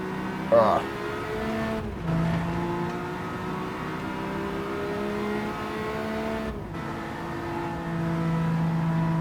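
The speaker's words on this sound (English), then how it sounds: "You can still get up almost 100 miles an hour driving this little car." A small car in Gran Turismo 7 laps a track near 100 mph, its engine a steady loud drone with pitch dropping and climbing at gear shifts, while someone talks over it.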